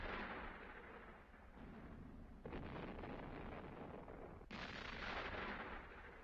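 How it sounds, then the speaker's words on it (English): Distant cannon fire rumbles as a low, heavy booming wash, with a couple of sharper onsets partway through, faint overall and without speech. "That could be cannon fire."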